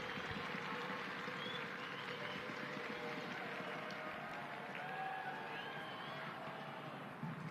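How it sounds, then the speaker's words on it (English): Crowd in the stands at a soccer match between El Paso Locomotive FC and Monterey Bay FC, a steady distant wash of applause and murmur that holds evenly throughout with faint calls. "Section 105 in the 8th notch, certainly applauding the effort so far tonight"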